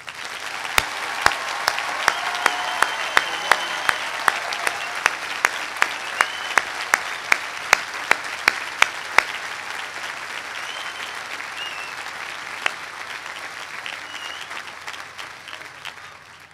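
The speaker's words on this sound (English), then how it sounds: "please join with me once again in saluting with our applause the graduates of the United States Naval War College" An audience at the United States Naval War College Class of 2015 graduation ceremony applauds the graduates and their families, a loud sustained round of clapping with sharp individual claps standing out before it gradually thins and fades.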